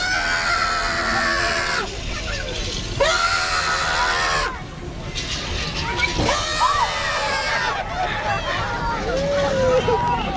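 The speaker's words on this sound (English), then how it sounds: "I heard a lot of you guys yelling." A theme park ride audience at the Universal Studios Jaws attraction yells and screams loudly in repeated surges, a dense crowd of shrieking voices filling the space near and all around.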